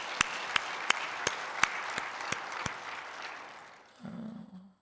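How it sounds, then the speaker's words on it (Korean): Church congregation clapping together in slow, even unison beats, about eight sharp claps over roughly three seconds, fairly loud and close, then stopping as a low hum and faint room noise take over. "우리 주님 앞에 영광의 박수 올려드립니다"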